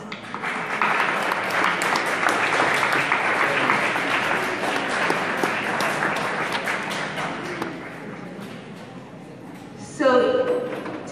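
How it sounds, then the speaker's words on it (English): Audience applause for parents fills a school academic awards ceremony at Highland View Academy, sustained loud clapping that fades near the end before a voice speaks. "I'd just like to give all our parents a round of applause."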